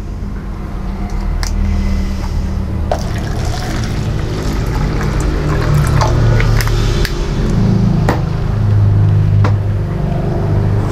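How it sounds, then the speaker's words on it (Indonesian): Road traffic noise heard from inside a car cabin parked close to the road, a steady low rumble with passing vehicles and occasional faint clicks and ticks. "karena terlalu dekat dengan jalan, akhirnya suara bising itu sampai ke dalam ruangan saya"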